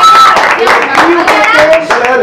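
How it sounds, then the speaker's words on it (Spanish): Applause at a live comedy show, with rapid clapping heard together with loud voices and cheering from the crowd. "un aplauso para ustedes"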